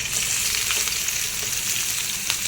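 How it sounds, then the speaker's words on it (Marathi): Onion fries in oil in a kadhai, giving a steady, dense crackling sizzle that stays even and close throughout, with no voices over it. "त्यासाठी आपण आता कढईमध्ये थोडंसं तेल घालूया आणि नंतर त्याच्यामध्ये कांदा घ्यायचा"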